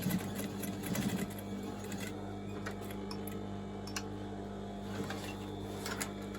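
A sewing machine stitching a large shopping bag runs in a continuous fast mechanical whir with rapid needle ticking, close and steady, with small clicks scattered over it and no voice.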